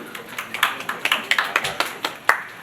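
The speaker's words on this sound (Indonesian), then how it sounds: "Boleh tepuk tangannya buat Mas Dery." A small group claps for a few seconds at a prize draw event, with uneven, scattered claps close by and no talking over them.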